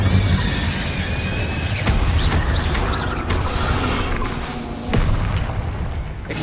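Incendio fire spell blasts in Hogwarts Legacy on Xbox Series X, repeated booming bursts over dense, busy game audio, with several sharp hits spaced across the stretch.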